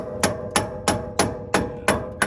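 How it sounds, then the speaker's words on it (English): A dead blow hammer tapping a tie rod end into the hub on a 1995 Ford F150, seven sharp, evenly spaced close knocks, loud and alone. "So I'm gonna take a dead blow,"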